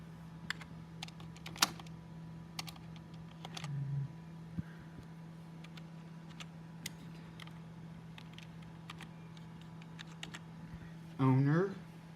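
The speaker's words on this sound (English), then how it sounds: "I'm just going to go ahead and type." Computer keyboard typing while setting up Windows XP: sparse, scattered keystroke clicks of moderate loudness over a steady low electrical hum, with a short rising tonal sound near the end.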